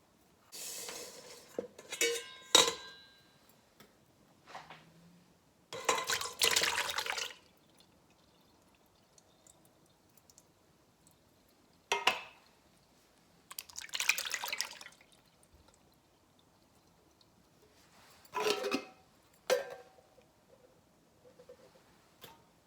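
Liquid from two large cans of sliced cling peaches drains in short splashing bursts, with drips and light clinks of cans and kitchenware between pours, close and quiet with long pauses.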